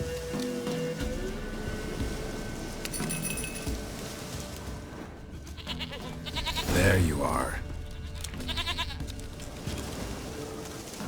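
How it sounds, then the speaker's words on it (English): A goat in The Witcher 3 bleats in a quavering, wavering call partway through, set among ambient game sounds and clinks, while someone talks over much of the scene. "Here, goat."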